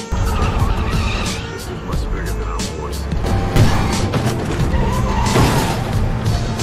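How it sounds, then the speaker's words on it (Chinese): A car brakes hard, its tires skidding and squealing as it swerves and turns during a violent chase-and-ramming scene in a thriller film, with engine roar and crash-like impacts throughout and a voice speaking over the action. "于是老肥一个急刹车调转车头，接着就是一连串的追赶和撞击"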